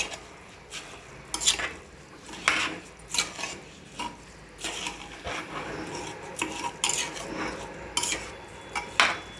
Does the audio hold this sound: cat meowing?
no